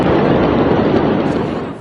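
The explosion at the Beirut port warehouse, where stored fireworks had caught fire, comes as a loud, dense roar of continuous blast noise that fades slightly at the end.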